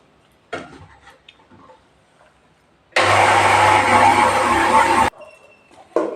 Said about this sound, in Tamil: இப்படி அரிசியை மிக்சியில் அரைச்சிக்கலாம் ஃப்ரெண்ட்ஸ்